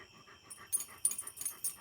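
A pet dog named Indy panting in quick, breathy bursts close by, a short run of rapid huffs with a few sharper puffs and no talking.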